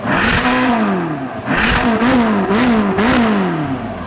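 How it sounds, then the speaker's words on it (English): A Ferrari V8 engine revving hard in repeated bursts, its pitch climbing and falling through three or four loud, close blips with brief drops between them. "I love the sound of a Ferrari V8."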